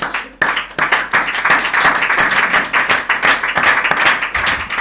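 A church congregation applauds during a sermon, with loud, sustained clapping from many hands filling the room close up for several seconds before fading out.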